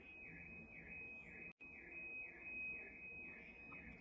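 A steady electronic alarm beeps in a repeating pulsing pattern throughout, loud and close, with one brief dropout partway through, heard indoors while someone is packing a suitcase.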